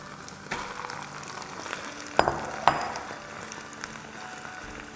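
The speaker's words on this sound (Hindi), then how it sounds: "अब इसे अच्छे से भूनेंगे प्याज़ों के और लहसुन अदरक के साथ।" Chicken thigh keema frying with onions, garlic and ginger in a pan, a soft steady sizzle with a few sharper stirring clicks and scrapes, moderately close and without talk.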